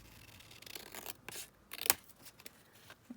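Scissors cut through paper for a grungy wrap-around junk journal cover, with a few quiet, close snips and rustles spread irregularly among soft handling noises.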